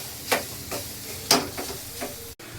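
Young jackfruit is set into a pan to cook, giving a soft sizzle broken by a few light clicks and scraping knocks. The sounds are close and fairly quiet.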